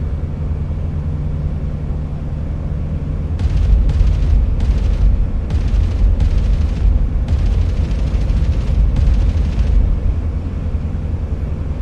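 A run of loud, rumbling bomb explosions in the flight simulator DCS World, about six bursts in quick succession over a steady warbird engine drone.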